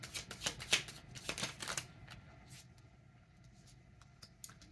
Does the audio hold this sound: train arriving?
no